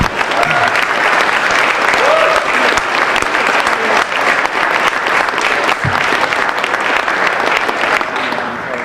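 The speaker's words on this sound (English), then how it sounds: "please give our speakers one more big round of applause" Loud, sustained applause from a large crowd at a Veterans Day dining-in event, steady clapping filling the space for several seconds.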